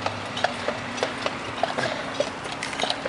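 Horse hooves of a hansom cab horse clip-clop in a steady, even rhythm on pavement in downtown St. Louis, crisp and fairly close, over a faint background hum.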